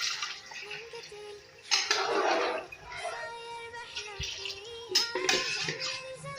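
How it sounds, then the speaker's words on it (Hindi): Water being poured into a pot for desi chicken and pumpkin curry, a splashing stream in short bursts with some clinks of a metal pan close by. "और पानी डाल दूँगी इसको बनाने के लिए"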